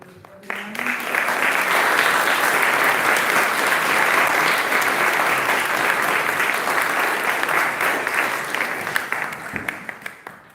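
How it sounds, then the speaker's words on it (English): Audience at a town candidate forum gives a long, dense round of applause, swelling quickly and holding steady before tapering off near the end, with no talking over it. "you can give a round of applause to everyone"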